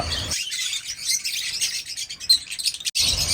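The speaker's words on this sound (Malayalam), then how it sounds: "അടുത്തായിട്ട് സെയിൽ വന്നിട്ടുള്ളത് ലവ് ബേഡ്സിൻ്റെ അഡൽട്ട് കിളികളുടെ ഒരു ബാച്ചാണ്" Dense, high-pitched chirping from many lovebirds, continuous and busy, with no voices present.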